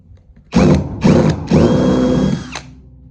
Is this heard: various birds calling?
no